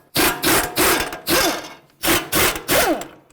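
On a Chrysler Town & Country, an impact gun spins off the 21 mm nuts from the steering-knuckle-to-strut bolts in two loud groups of three whirring bursts, each about a third of a second long, heard close up.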